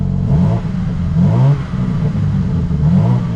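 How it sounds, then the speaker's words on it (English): A 2024 BMW M2 engine revving while stationary, with its exhaust valves open: three strong rising revs, each falling back into crackling burbles, loud and close with no talking. "I'll rev it? Yeah, go ahead."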